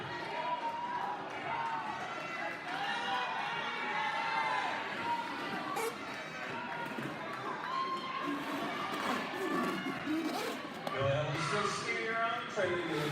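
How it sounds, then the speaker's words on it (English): Steady crowd noise and cheering fills an indoor roller derby championship bout, a continuous moderately loud roar with scattered shouts and thuds from skaters, no single voice standing out. "Cheer on your skaters, please. Make your voices heard."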